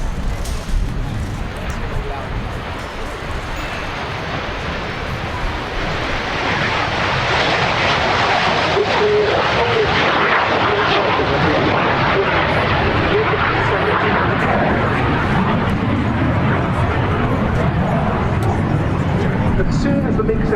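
A WSK Mielec Lim-5, a Polish-built MiG-17F jet, rolls down the runway at an air show with its afterburner lit. A dense, loud roar swells and holds for the whole stretch while a commentator talks over it.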